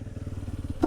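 A Jawa motorcycle engine idles with a steady low pulsing throb, close by, ending in a brief clatter near the end.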